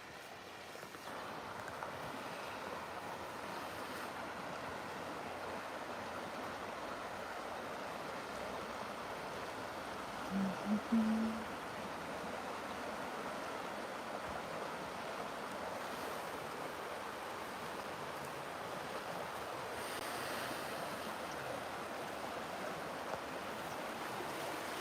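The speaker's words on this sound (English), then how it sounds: "Maybe you can hear the river sounds of where I am." Steady broadband rush of a flowing river outdoors, continuous and moderately near, with a brief low thump midway and no talking.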